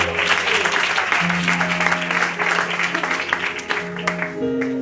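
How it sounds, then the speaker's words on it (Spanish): Sustained applause from a church congregation welcoming a speaker to a book presentation, dense and steady clapping with a few held musical tones beneath, running throughout without speech. "¿Puedes aplaudir para el Señor, iglesia, por favor?"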